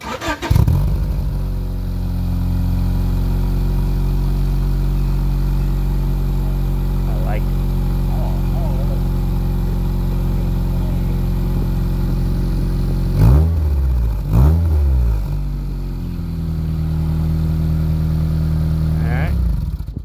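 A Honda CB7 motorcycle with a Flashark exhaust and silencer fitted fires up and settles into a steady, throbbing idle, then gets a few quick throttle blips near the end, loud and close, with a person talking.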